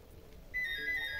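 A telephone ringtone starts abruptly partway through, a steady bright electronic melody ringing out over faint background sound from a video game session, fairly close with no talk.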